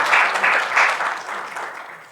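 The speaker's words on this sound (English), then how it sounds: "Please give him a round of applause." Conference audience giving a brief round of applause for a speaker, a soft patter of clapping that swells early and then tapers away.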